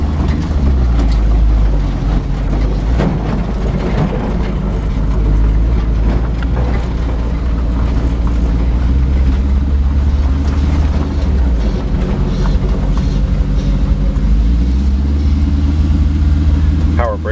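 A cheap Chinese truck drives on pavement, its engine droning steadily with road rumble and rattles throughout, loud and close from inside the cab.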